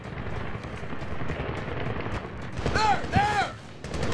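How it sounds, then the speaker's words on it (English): Bursts of AK rifle gunfire in the Medal of Honor (2010) war shooter, a few loud cracks clustered near the end over a dense battle rumble, with someone shouting briefly. "You hear that? That is an AK fire."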